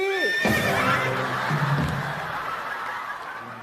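A horse whinnies loudly at the start, its descending neigh ringing out close by before fading into a noisy background with no speech.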